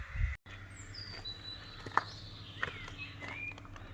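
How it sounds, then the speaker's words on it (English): Birds chirp and whistle in the distance, with several thin calls and brief bright chirps over a low steady hum. "I don't know if you can hear all the birds."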